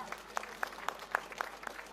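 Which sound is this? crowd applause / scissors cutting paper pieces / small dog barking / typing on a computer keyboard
crowd applause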